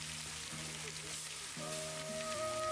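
Asafoetida and garlic paste sizzle in hot oil for tempering, a soft steady frying hiss with faint tonal hums from the kitchen underneath.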